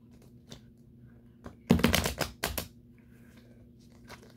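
A short burst of riffling cards, a quick flurry of flicking, then a softer second riffle before quieting, with scattered light taps around it.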